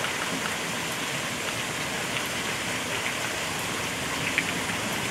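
Steady rain falling at a zoo, a dense even hiss of drops hitting surfaces with a few sharper splashes, continuous and fairly close, no voices.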